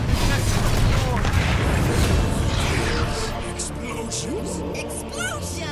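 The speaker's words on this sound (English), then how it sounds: "Explosions!" Dota 2 battle explosions, a dense run of booming blasts and crashing impacts under a continuous clamor of game effects, with game voice announcements heard over the din.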